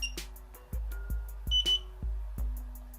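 A FIMI X8 SE drone remote controller gives short, high electronic beeps as a photo is taken, mixed with soft clicks and low thumps, close by and with no talk.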